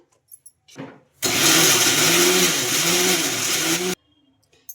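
A mixer grinder crushes green chillies with salt in one loud, steady whirring run of about three seconds, starting and stopping abruptly, with a fluctuating motor whine and brief faint clatter before and after.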